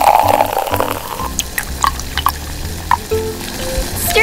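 Snails simmer in Coca Cola in a small pot with lime leaves, lemongrass and galangal, giving a steady close bubbling and liquid churn with a few brighter pops and clinks.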